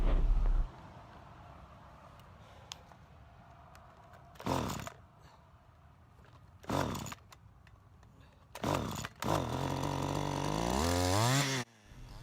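A Stihl FS 94 R string trimmer with a hot start problem after sitting 30-40 minutes: several short pull-start rattles and sputters, then the engine catches briefly with a loud, rising revving whine before cutting out.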